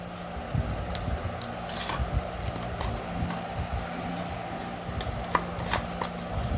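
Garlic and raw onions are mashed and mixed together by hand for a vegetable bharta, giving close, soft squishing and squelching sounds in an irregular rhythm with occasional light clicks.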